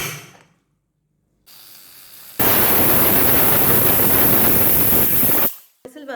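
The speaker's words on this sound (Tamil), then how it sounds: "விசில் வந்துடுச்சு" A pressure cooker holding green gram masala releases a loud, close burst of rushing steam lasting about three seconds, between quiet stretches.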